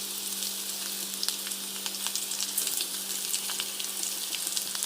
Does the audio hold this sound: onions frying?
yes